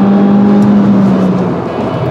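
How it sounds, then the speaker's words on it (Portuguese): A Peugeot 208 GT accelerates hard on a race track, its engine holding a loud, steady, close-up drone that rises slightly in pitch over a couple of seconds, with no talking. "Esse acelera e faz curvinha."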